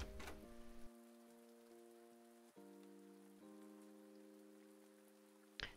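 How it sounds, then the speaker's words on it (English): Steady rain patters across the whole stretch in a video game, overlaid by sustained electronic music tones, with no voices. "So there's rain."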